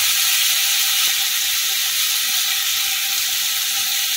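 Spices, turmeric and green chillies frying in hot oil in a home Bengali kitchen make a steady, close, bright hiss and sizzle that stays even throughout, with no talking.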